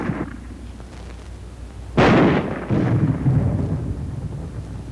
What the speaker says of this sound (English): armor-piercing ammunition can smash through this kind of wall any time